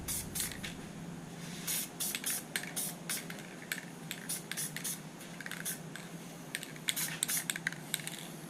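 Paint sprays in short, repeated hissing bursts onto a 2003 C5 Corvette center console, the spurts coming close and at moderate volume over a faint background hum.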